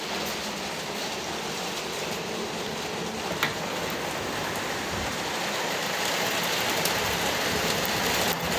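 Heavy, dense rain pours down in Odesa at the end of September, a steady loud broadband hiss and patter on surfaces with no voices, continuous throughout.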